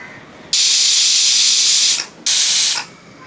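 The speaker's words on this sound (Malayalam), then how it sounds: "രണ്ട് വിസിലടിച്ചിട്ടുണ്ട്" A pressure cooker on the stove, cooking a Kerala-style curry, gives two loud hissing bursts of escaping steam: one long blast of about a second and a half, then a shorter one after a brief pause.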